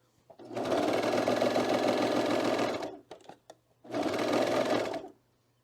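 A sewing machine stitches around the corners of a fabric hood with cat ears in two loud, close bursts of rapid stitching, separated by a brief pause with a few soft clicks.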